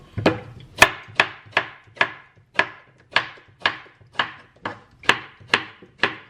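A knife slices through cucumber on a cutting board in a steady run of about a dozen crisp, evenly spaced chops, close and clear with no talking.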